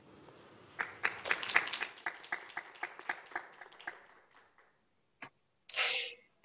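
A small audience at a youth peace forum claps to welcome a student association president to the podium, a scattered burst of hand claps that thins out and stops, followed by a brief voice.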